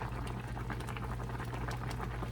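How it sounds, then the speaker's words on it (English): Liquid boils hard in a pot on a stove, a dense, steady bubbling and popping that stays close and continuous, with a low hum under it and no voices. "see how that's boiling? So it's kind of boiling a lot."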